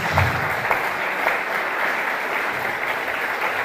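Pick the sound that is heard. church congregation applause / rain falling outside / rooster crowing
church congregation applause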